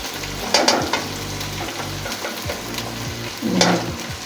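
Lightly browned onions frying with tikka biryani korma masala in a pan, a loud close sizzle with spoon scrapes and stirring bursts, and no voices.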